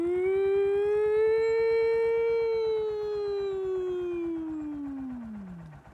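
A person's voice imitates the siren of a four-wheeler with one long, loud, rising-then-falling wail. The howl holds steady for several seconds, then sinks and fades away at the end.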